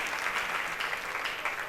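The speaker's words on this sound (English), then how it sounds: "Let's give him a big round of applause." Audience at a school cooking competition final applauding for a hotel head chef, steady dense clapping at moderate level without talk.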